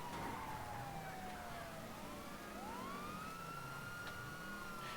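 An emergency siren wails continuously with rising and falling sweeps, steady and fairly loud over background noise, with no talk.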